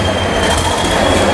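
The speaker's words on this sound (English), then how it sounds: "Here comes Southwest train class 455." A class 455 electric train passes a level crossing at Portslade, a loud, close, continuous rumble with a faint high wheel squeal and no voices.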